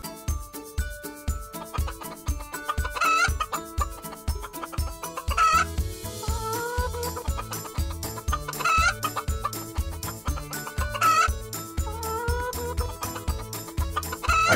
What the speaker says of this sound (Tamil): ஐயையோ, கோழிங்க எல்லாம் ஒன்னா சேர்ந்து வர்றாங்களே